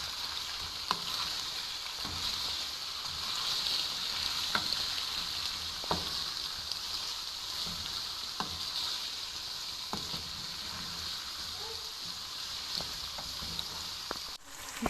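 Chicken and masala spices being stirred in a frying pan, a steady close sizzle running throughout with regular sharp scrapes of a spoon against the pan every second or so, no voices.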